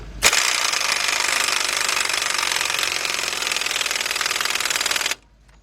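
Rapid hammering burst of a power impact wrench tightening a 1 1/4 inch axle nut on a Ford Explorer front wheel hub, loud and close, a steady five-second run that stops abruptly.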